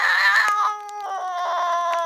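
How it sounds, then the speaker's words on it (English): A cat at a holiday party magic act lets out a drawn-out, wavering meow, loud and close, then trails off into a softer whining cry. "Has that cat been on your head the whole night?"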